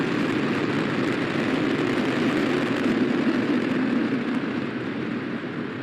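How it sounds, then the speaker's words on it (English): A SpaceX Falcon 9 rocket's ignition and liftoff produces a steady, dense, broadband roar that holds loud and constant, fading slightly at the end. "3, 2, 1. Ignition and liftoff."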